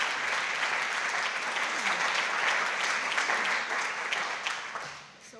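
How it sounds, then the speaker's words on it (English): An audience at a Women in Data Science Q&A session applauds the speakers, a loud, sustained round of clapping that holds steady and then fades toward the end. "Please all give a round of applause to our speakers."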